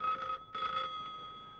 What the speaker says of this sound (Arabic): رد على التليفون وانا مش موجود